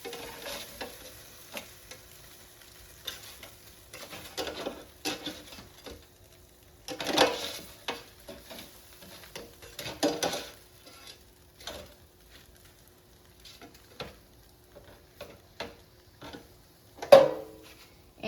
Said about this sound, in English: let's take out the air fryer basket. And let's turn the smelts over so they cook more evenly